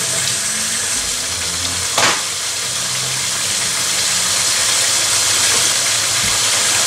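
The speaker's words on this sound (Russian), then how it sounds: "Так что вот так вот жарится." Meat sizzling in hot oil in a pan for homemade Uzbek lagman, a constant close hiss with a single brief clatter partway through.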